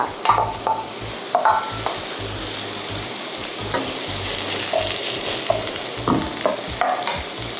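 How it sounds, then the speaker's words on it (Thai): Udon noodles with vegetables and crab sticks being stir-fried in a pan: a steady sizzle under repeated scraping and clattering strokes of the spatula, close and fairly loud. "ผัดสักพักนะคะ ให้ปูอัดเราเนี่ย เริ่มแบบโดนความร้อนนิดนึง"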